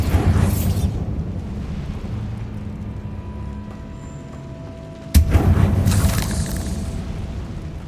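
A Bombarda spell explosion in Hogwarts Legacy: a deep boom that fades over several seconds into a low rumble, then a second sharp, loud blast that also rolls off slowly.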